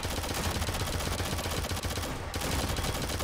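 Dense, continuous gunfire from a first-person shooter, Shadowgun Legends PvP, with rapid overlapping shots that stay loud throughout and dip only briefly near the middle.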